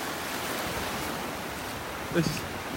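Rough Gulf Coast surf at a North Naples, Florida beach rolls as a steady broadband wash with some wind on the microphone and a brief faint sound near the end.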